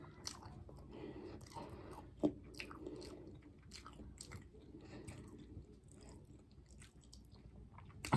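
Someone chews a PayDay candy bar packed with peanuts: close, wet crunching and mastication continue steadily, with a sharper bite partway through and no talking.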